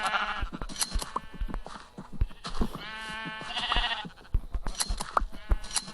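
Sheep in the Minecraft video game bleat repeatedly and loudly in close, overlapping bursts, some stretched and wavering, filling the whole stretch without talk.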